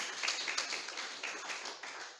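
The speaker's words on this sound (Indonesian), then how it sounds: "Berikan tepuk tangan yang paling meriah" Quiet, distant clapping from a church congregation during an online worship service, a soft continuous patter of many hands that fades slightly toward the end.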